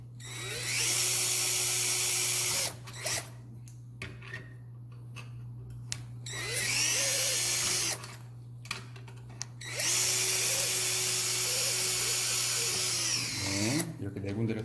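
Surgical drill boring four holes through a guide into a sawbone shoulder model for a reverse total shoulder demo, three loud sustained whining bursts separated by quieter gaps with clicks and handling sounds, ending in a short burst.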